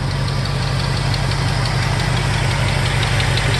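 A 1969 Ford F250 Custom Cab Camper Special with a 390 V8 idles steadily and loudly up close, an even low rumble with a fine rhythmic ticking throughout.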